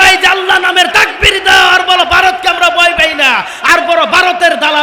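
A large crowd at a Bengali Islamic religious sermon shouts a takbir together, loud rhythmic massed voices rising and falling in repeated bursts, close and forceful.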